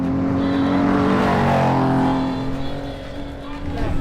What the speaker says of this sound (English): They hear the engines long before the cars arrive.